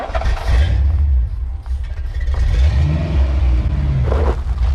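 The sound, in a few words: Foxbody Mustang GT engine revving during burnouts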